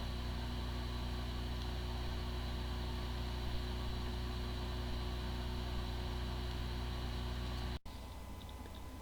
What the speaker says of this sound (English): following is the sound from one of the hard drive which experienced disk firmware corruption